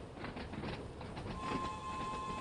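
A train rolls along rails in Train Sim World 2 on the Isle of Wight line, a quiet, steady running noise with a faint sustained tone rising partway through.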